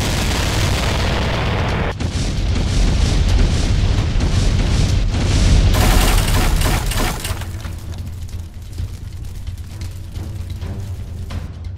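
Heavy artillery fire and explosions roll through an animated battle scene, a dense, loud barrage of deep booms and blasts that shifts in intensity and continues without pause, with no voices.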